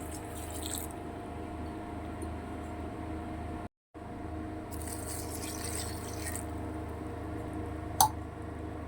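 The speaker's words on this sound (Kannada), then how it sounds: "ಇಲ್ಲಿ ನೀರು ಆ್ಯಡ್ ಇದ್ದೀನಿ" Water is poured into a pot of dal and spinach curry, making a faint, steady trickle that runs almost continuously with one brief dropout near the middle and a small splash toward the end.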